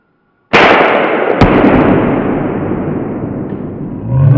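Tracer rounds strike Tannerite, setting off a sudden loud, close blast that rolls into a long, roaring crackle of sparks and debris, with a sharp crack partway through and the rumble slowly fading.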